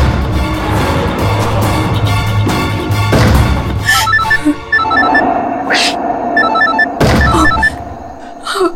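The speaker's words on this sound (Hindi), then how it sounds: "आयशा को फोन करती हूँ" A telephone rings in repeated electronic bursts with pauses between, over background noise and a few thuds.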